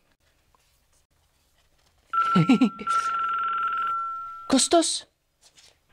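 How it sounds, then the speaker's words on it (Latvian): A telephone rings with a steady electronic trill in two bursts, the first long and the second shorter, loud and close over an otherwise quiet background, with a brief spoken question and a few quick clicks around it. "Izklausās, ka man zvana telefons."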